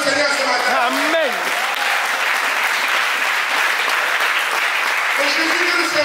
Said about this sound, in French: On acclame le Seigneur ce matin